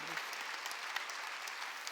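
Congregation applause during a Wednesday church service, a brief burst of dense clapping from a crowd at steady level, with no talk over it.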